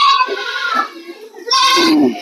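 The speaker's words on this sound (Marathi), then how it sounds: "हे आपल्या कोटा जातीच्या शेळ्या आहेत बघा." Kota breed goats bleat in two loud bursts with a quieter stretch between them, in rainy monsoon conditions on a roaming goat herd.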